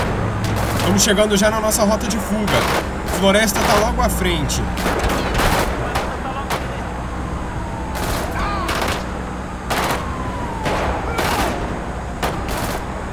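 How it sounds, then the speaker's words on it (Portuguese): Gangsters firing on police in GTA V during a bank-robbery getaway: scattered shots and rapid bursts crack near and far, mixed with engine rumble, while someone talks over the action. "os caras estão atirando na polícia sem dó, galera"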